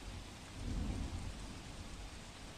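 Steady rain falls on village ground around Palitana in Bhavnagar, a dense hiss with a brief low rumble swelling near the start, all fairly faint and without any voices.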